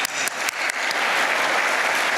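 Audience applause ringing out in a conference town hall session, a dense, sustained clapping from a large crowd that starts with a few sharper claps and then swells into a steady, loud roar.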